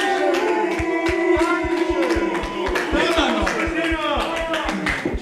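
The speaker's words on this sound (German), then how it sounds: "Ihr dürft klatschen." Audience at a wrestling show claps in a steady, rhythmic pattern of sharp beats, loud and close, running under someone talking continuously over the applause.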